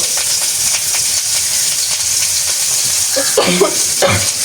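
Onions and green chillies sizzle steadily in hot oil as they are stirred, a dense, continuous hiss with faint scraping, and a voice briefly talks near the end.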